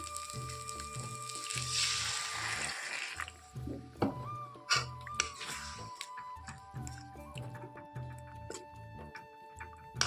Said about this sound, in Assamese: ভালদৰে ভজা হৈ গ'ল আৰু এতিয়া দি দিম পানী